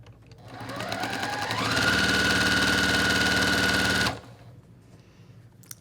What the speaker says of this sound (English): I'm just using this 1/4 inch foot, and I'm just going to sew 8 of these together